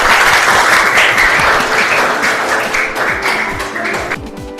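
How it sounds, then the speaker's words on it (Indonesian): Classroom applause as students and teacher clap together for everyone during a coaching session for academic supervision, a dense, steady round of hand claps that stays loud and gradually thins toward the end. "Oke, tepuk tangan untuk kita semua."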